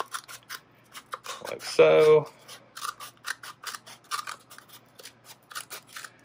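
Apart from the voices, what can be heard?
scissors trimming around a mold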